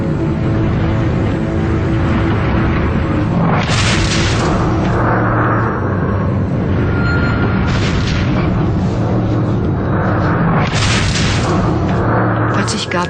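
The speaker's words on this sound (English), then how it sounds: "Suddenly there was an explosion." Explosion aboard the Wilhelm Gustloff refugee ship, rendered as a dense roar with several deep booming bursts around the middle and near the end, loud and continuous, with speech mixed in.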